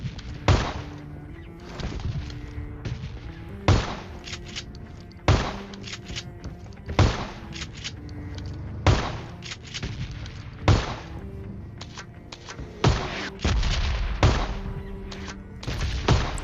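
Shotgun blasts in a PUBG game, about a dozen heavy booming shots spaced roughly one to two seconds apart, each with a sharp attack and rumbling tail, loud and close with no talking.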